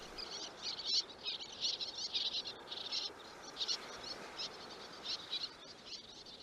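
Little terns call at a sandy nesting site in the Ria Formosa lagoon, giving repeated sharp, high chirps in quick bursts over a faint background hiss, fairly distant and with no voices.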